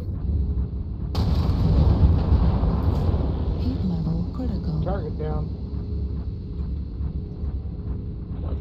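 LRM missile fire in the MechWarrior Online video game rumbles as a dense, continuous low roar with booming volleys, while a voice talks over the heavy battle noise.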